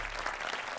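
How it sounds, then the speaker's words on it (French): A group claps for themselves after finishing an intense exercise session, a brief, even burst of many hands clapping together at moderate loudness. "On peut venir s'applaudir."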